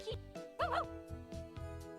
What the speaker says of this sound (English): Cece spins around Deli, barking excitedly.